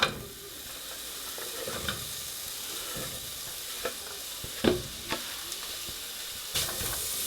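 Onions cooking in a dry pan with no oil give a steady, quiet sizzle and hiss throughout, broken by a few clicks and scrapes of stirring. No one speaks over it.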